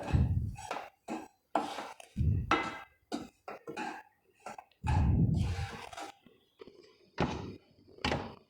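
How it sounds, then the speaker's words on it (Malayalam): Sugar and gram flour stirred together in a pan over a low flame for Kerala sadya boli: a run of short, uneven scrapes and clinks of a utensil against the pan, close and moderately loud, separated by brief pauses. "ഇതും നമ്മുടെ കടലമാവും കൂടെ നന്നായിട്ടൊന്ന് മിക്സ് ചെയ്ത് കൊടുക്കുക."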